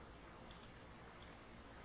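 Two quick pairs of soft computer mouse clicks during GIMP photo editing, faint and close, with silence between them.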